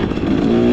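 A KTM XCW 300 Champion two-stroke dirt bike engine runs steadily at close range, a loud buzzing drone with a constant pitch through the brief moment.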